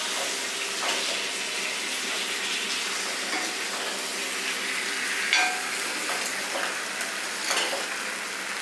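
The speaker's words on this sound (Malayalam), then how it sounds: "നന്നായിട്ടൊന്ന് ഇളക്കി യോജിപ്പിക്കുക." Chicken curry sizzles steadily in a pan while it is stirred, the constant frying hiss broken by occasional scraping strokes, close and fairly loud with no talking.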